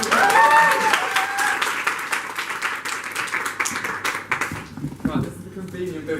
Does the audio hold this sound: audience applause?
yes